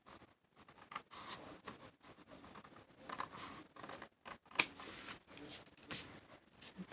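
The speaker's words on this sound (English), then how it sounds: "I'm going to cut it." Scissors cutting paper for a vintage travelers notebook, with soft close snips and rustling scrapes in an uneven rhythm, heard alone.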